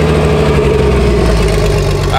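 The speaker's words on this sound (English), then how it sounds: "We're going to bring Dedek's Jeep over there" A Jeep, said to have had an engine swap, runs steadily nearby with a deep low rumble, idling loudly and continuously without any change in pace.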